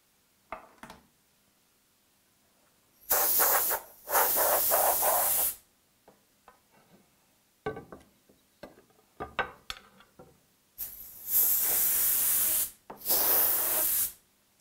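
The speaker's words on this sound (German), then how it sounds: "Das Wechselprofil kann als Einzelteil ohne die Dichtmatte mit Druckluft abgeblasen oder mit einem Reiniger" Compressed air blows off the exchangeable profile of a Schmalz FMHD area gripper in four loud, steady hissing bursts of a few seconds each, separated by scattered clicks and handling noises from the parts.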